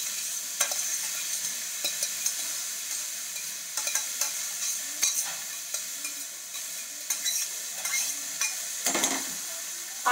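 Steamed carrots and beans tipped into a pan with zucchini for a mixed vegetable sabzi and stirred, giving a soft steady sizzle broken by scattered scrapes and clicks of a spoon against the pan, with no voices.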